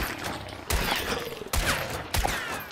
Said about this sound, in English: I heard a bunch of gunshots